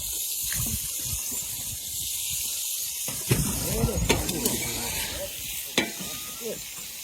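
Fish fry in a pan aboard a fishing trawler, a steady bright sizzle and hiss running throughout, with a few sharper spits and pops toward the middle while a person talks over it.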